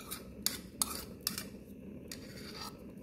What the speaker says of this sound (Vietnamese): Giờ mình sẽ đổ nước mắm tỏi ớt vô và sốc lại.